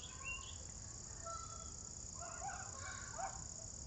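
Scattered honks from geese flying south and other bird calls sound over a steady outdoor backyard-garden hiss with a low rumble, fairly faint and distant.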